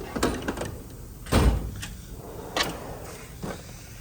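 A Snap-on tool box drawer slides open and shut in a shop, with a few sharp metallic clunks and rolling slides spaced out, close and fairly loud against a quiet background.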